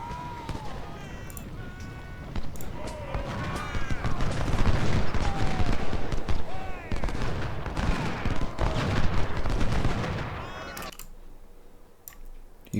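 Massed musket volleys from Civil War infantry lines in the strategy game Ultimate General: Civil War, a dense continuous crackle of rifle fire with scattered louder reports, steady for about eleven seconds before dropping off.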